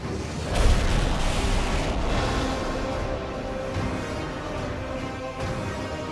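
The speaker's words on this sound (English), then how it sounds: "After years in development, Korolev's R-7 rocket is finally ready for its first launch." First launch of the Soviet R-7 rocket with a dummy warhead: a deep boom gives way to a loud, sustained rumbling roar that fills the whole stretch without fading.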